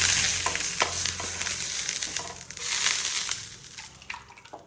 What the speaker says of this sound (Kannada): ಎಲ್ಲ ಕಡೆ ತುಪ್ಪ ಹಾಕಿ ಒರೆಸ್ಕೊತಾ ಇದ್ದೀನಿ.